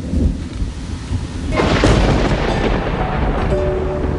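Steady rain hisses throughout in a Ural mountain valley while a loud roll of thunder swells up and rumbles on, close and heavy.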